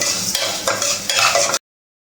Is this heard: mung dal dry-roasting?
yes